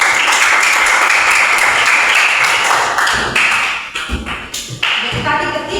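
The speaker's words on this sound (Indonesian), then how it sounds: "Kita kasih tepuk tangan" A classroom of students applauding a presenting group, dense broadband clapping that holds steady for several seconds and then thins into scattered claps toward the end, with some voices mixed in.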